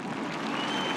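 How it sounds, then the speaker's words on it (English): Steady audience applause fills a keynote hall, a dense continuous wash of clapping at moderate level with no voice over it. "Round of applause."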